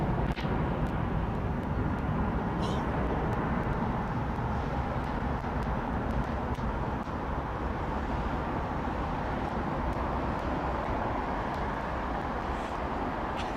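An Emirates Airbus A380 departing London Heathrow, its jet roar a steady broadband rumble that holds loud and unbroken throughout, with no voices over it.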